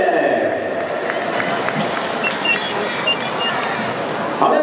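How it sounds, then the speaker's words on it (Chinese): Baseball crowd at Intercontinental Baseball Stadium applauding after a pregame dance, a dense steady wash of clapping and cheering from many fans, with an announcer talking over it. "现场的球迷要再一次的热情掌声鼓励"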